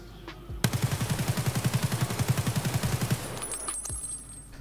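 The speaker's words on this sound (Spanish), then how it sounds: "Vamos a hacer un spray, vamos a vaciar el cargador ahora." An AK-74M in Escape From Tarkov empties a full magazine in one sustained spray of rapid automatic fire. The shots come fast and evenly spaced for about two and a half seconds and then stop abruptly.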